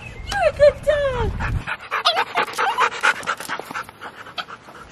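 A pet dog pants rapidly and rhythmically close by, with a few high whimpering yips and whines at the start mixed with a low voice, the quick breathy panting continuing steadily afterward.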